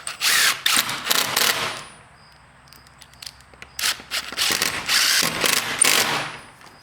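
A drill driving screws into a wooden chicken coop door, two clusters of short whirring bursts with a quiet gap between, close and fairly loud, no talk.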